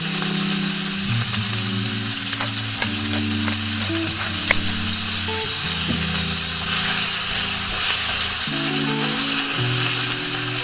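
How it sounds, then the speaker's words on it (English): Beef frying in hot olive oil in a pan, a loud, constant hiss and sizzle with occasional sharp crackles, over a continuous background music track. "Fry the beef until it's golden brown."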